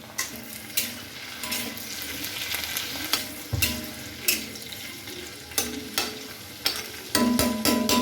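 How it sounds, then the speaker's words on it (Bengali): Onion, garlic and capsicum frying in ghee with cardamom and cinnamon in a pan, a steady close sizzle punctuated by repeated scraping stirs, growing louder and busier toward the end. "এবার কড়াইতে ঘি দিয়ে তার মধ্যে এলাচ দারচিনি ও কেটে রাখা পেঁয়াজ রসুন ক্যাপসিকাম দিয়ে ভালো করে ভেজে নিতে হবে"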